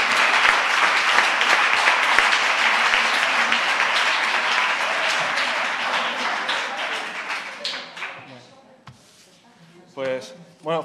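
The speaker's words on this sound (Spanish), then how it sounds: "como he visto que la gente aplaudía" Lecture audience applauding in a hall, dense steady clapping for several seconds that fades out near the end, followed by a voice speaking.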